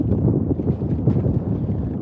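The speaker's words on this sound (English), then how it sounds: "We have a decent amount of wind out here on the lake today too." Wind blows across a lake on a fishing outing, a loud, continuous low buffeting rush against the microphone with no pauses, close and steady, with water ripple beneath.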